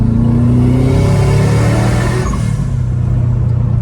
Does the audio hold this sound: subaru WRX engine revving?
yes